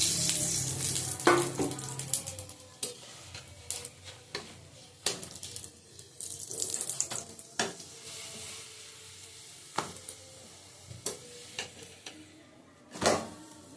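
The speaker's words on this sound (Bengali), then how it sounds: "তেল দিয়ে দেবো, তেল দিয়ে ভাজবো আমি।" Whole-wheat atta parathas fry and puff in oil in a pan, a quiet steady sizzle with scattered sharp clinks and scrapes of a spatula against the pan, with no one speaking.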